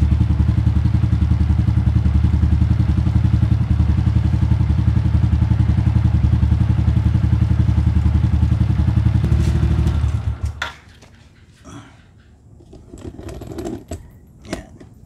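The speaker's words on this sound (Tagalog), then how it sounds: "napainit na natin, napa-warm up na natin yung makina." Suzuki Raider J FI 115 motorcycle engine warming up at idle: a steady, loud, rapid ticking putter that runs evenly for about ten seconds, then cuts off, leaving faint clicks and handling noises.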